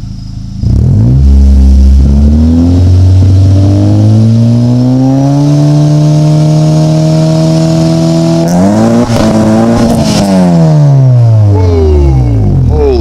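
A supercharged 2014 Honda Civic Si fitted with a Vibrant resonator exhaust revs loudly from a standstill, the pitch climbing and holding, then dropping, followed by a second short burst of revving and a falling tail.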